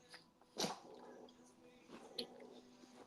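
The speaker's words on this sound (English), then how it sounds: "Yes, all 3 dogs are always like this with me." Several pet dogs greet their owner in a home, giving a couple of short snorts or muffled yips amid soft background noise, with a faint human voice present.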